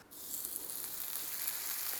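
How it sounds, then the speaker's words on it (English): The fat cap of a steak sizzles on a stainless steel cooking plate, a close, steady hiss that sets in abruptly and keeps building. "You can hear it build up, that beautiful sizzle."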